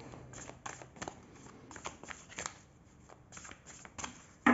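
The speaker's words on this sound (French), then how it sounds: "je vais faire une coupe et je vais prendre une carte." A deck of oracle cards is cut and handled, giving a run of quick, soft papery flicks and riffles close to the microphone, with nobody speaking.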